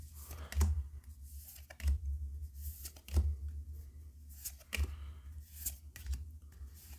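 Cold One Piece trading cards that stick together are peeled apart and handled up close, giving crisp rustles and sharp clicks at irregular intervals.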